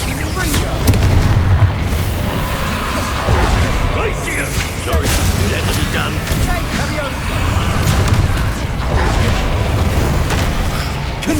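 Repeated explosive spell blasts from Confringo in Hogwarts Legacy on PS5, heavy booming bursts rolling over one another amid battle noise and shouted voices, loud and continuous throughout.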